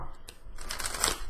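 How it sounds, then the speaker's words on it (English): Tarot cards are shuffled in a quick burst of papery riffling and soft slaps, close and fairly quiet, over a faint background hum. "I'm going to start shuffling the cards while we wait."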